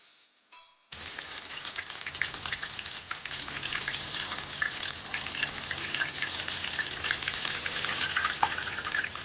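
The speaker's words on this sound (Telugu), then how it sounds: "ప్యాన్ వేడైన తర్వాత ఆయిల్ వేసి అందులో ఒక్కొక్క ముక్క వేసి ఫ్రై చేయాలి" Fish pieces fry in hot oil in a pan, giving a steady crackling sizzle that starts abruptly after a brief quiet moment and continues dense and close.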